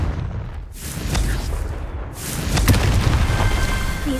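A Confringo explosive spell goes off in the video game Hogwarts Legacy: loud booming blasts and rumbling bursts over a dense game soundscape, with one sharp crack standing out near the end.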